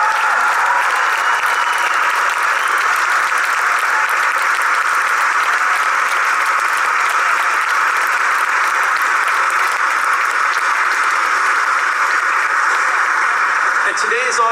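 A graduation baccalaureate crowd gives sustained applause to honor plant operations staff, a loud, continuous roar of many people clapping that holds steady for a long stretch.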